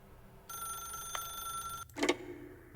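In the video game The Stanley Parable, a telephone rings with a bright, steady electronic bell tone for over a second, followed by a short rattling clunk as it stops; there is no speech.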